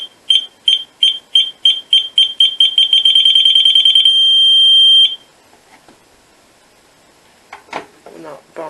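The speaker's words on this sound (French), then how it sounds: "on va appuyer 10 secondes sur ce bouton jusqu'à que ça fasse un bip long" A DSF Arkeon fire alarm control panel gives a series of short, loud beeps that speed up into rapid pulses and then merge into one sustained long tone before cutting off, leaving faint handling noises.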